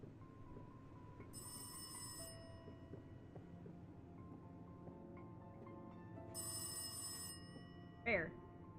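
In the video game Rise of Insanity, a telephone gives two bright electric rings several seconds apart. Both are fairly clear over a low steady ambient hum, and a person talks quietly nearby.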